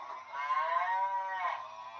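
A single drawn-out cattle moo, about two seconds long, comes from the sound effect of a model railroad cattle car, fairly faint and alone with no talk.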